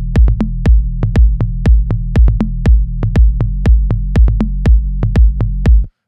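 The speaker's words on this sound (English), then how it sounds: "So kick, tom, and bass line." Afro House kick, tom and bass line group in Ableton Live: steady four-on-the-floor kicks with tom hits over a sustained low bass line, loud and punchy, no voices.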